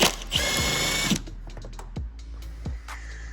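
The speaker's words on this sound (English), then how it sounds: "there's going to be 6 10mm bolts that are held in all along here. You need to take those out." Power tool or ratchet work on 10mm bolts holding a rear bumper on an overland-built Toyota Sequoia: a loud burst of whirring for about a second, then scattered clicks and short metallic knocks close by.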